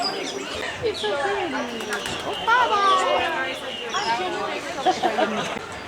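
Birds inside an aviary at Disney's Animal Kingdom, with chirps, coos and varied calls scattered across a steady crowd murmur and nearby chatter.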